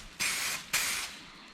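Spray paint can fired in two short test bursts for a Honda Accord / Acura TSX rear window visor, each a sharp close hiss lasting about a third of a second, separated by a brief pause.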